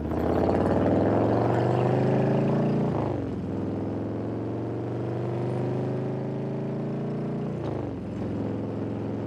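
A 2021 Harley-Davidson Road King pulling away from a stop on a hill, the engine rising through two gear pulls with drops in pitch between them, heard steadily from the rider's position with wind noise.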